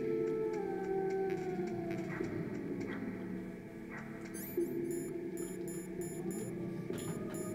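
Dogs whining and howling in Metal Gear Solid, drawn-out wavering cries over a steady game backdrop, joined later by rapid repeated high electronic beeps like an alarm, moderately loud with no talking.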